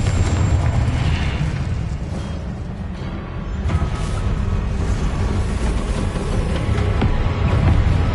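A Confringo spell explosion in the Hogwarts Legacy video game: a dense, loud, continuous booming rumble that surges and settles across the whole stretch, with no voices.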